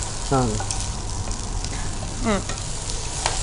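Green chili paste with a little chili powder frying in a pan while it is stirred, a steady sizzle with occasional scraping under a faint voice.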